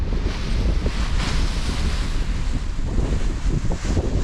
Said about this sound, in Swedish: Kraftig vind.